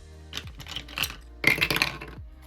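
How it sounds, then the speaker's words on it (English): Dice rolled onto a table during a cash-stuffing savings challenge: several sharp clicking taps, then a louder, denser clattering burst as they tumble to a stop, close and clear with no talk. "So let's roll the dice and see what we're putting in."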